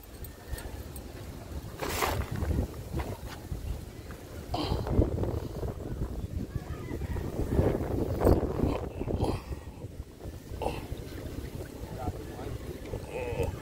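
Strong gusts buffet the microphone at a fishing spot on the water, heavy low rumbling bursts that come and go, with a voice heard now and then.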